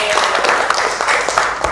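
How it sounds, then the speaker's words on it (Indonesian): A classroom group claps together in a burst of applause, dense and steady throughout with sharper individual claps poking through, while a voice may sound faintly underneath. "Tepuk tangan buat kita semua."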